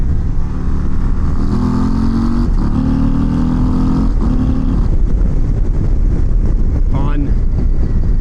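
A Harley-Davidson CVO ST motorcycle engine pulling hard after a downshift, a close, loud, rising roar buried in heavy wind rush, the pitch climbing through a gear before easing off.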